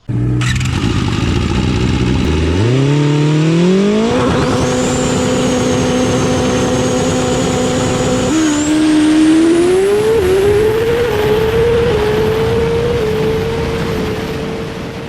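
A Kawasaki ZX-6R 636 sport bike with a Graves exhaust and a flashed ECU screams loudly on a dyno, its engine note climbing in stages, holding high, then rising again to a sustained top-end wail.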